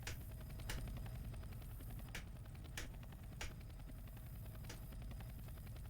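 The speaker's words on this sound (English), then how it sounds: "A helicopter." A helicopter in Left 4 Dead 2 hovers with a steady, faint rotor chop, and sharp percussive cracks come through it every second or so.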